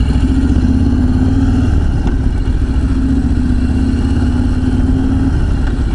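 A Harley-Davidson FXBB motorcycle fitted with forward controls runs steadily nearby, its loud, even engine rumble unbroken and unchanging for the whole stretch, with no talking.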